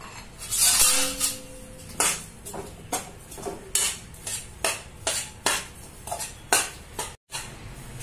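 Almonds, cashews and dried dates being stirred in a pan of ghee over low heat, giving repeated scraping clinks of a spoon against the pan at a steady rhythm, close and alone.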